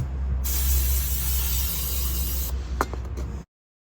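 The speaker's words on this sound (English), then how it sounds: "Wire brush and some brake cleaner, clean the recesses on the caliper holder where the pads sit." Brake cleaner sprayed onto the rear brake caliper holder of a Mercedes E200 W212, a loud close hiss lasting a couple of seconds, followed by a few short bursts and faint metallic ticks before cutting off.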